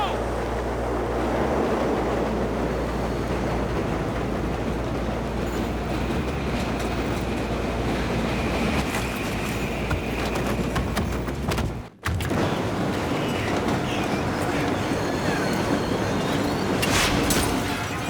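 A train rumbles steadily through a battle scene in the video game Battlefield 3, a loud, continuous mechanical roar with a brief dropout near the middle, overlaid with game sounds.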